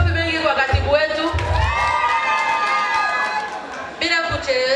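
A crowd at a church Eucharist celebration cheers and whoops, with high, wavering voices rising over a dense, close hubbub and a few thin claps.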